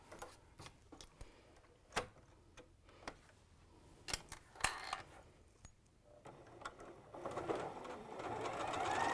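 A sewing machine chain pieces quilt blocks, with scattered ticks, clicks and light handling noises that build into a louder steady mechanical whir toward the end, fairly quiet overall.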